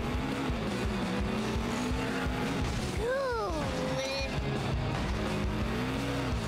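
In The Simpsons Hit & Run on PS2, a car engine drones continuously with rising and falling pitch, broken midway by a sharp squealing skid, all played at low level with faint background chatter.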